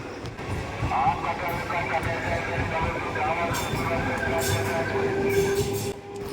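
A train passes close by a railway level crossing, a steady loud rumble of wagons with metallic wheel squeal running throughout, with voices faintly mixed in.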